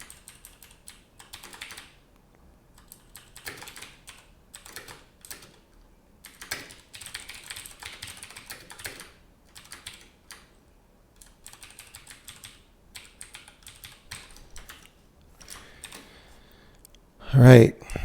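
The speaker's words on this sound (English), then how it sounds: "We'll just type it out." Rapid bursts of clicking on a computer keyboard, uneven runs of keystrokes with short pauses, close and clear, ending in a louder thump.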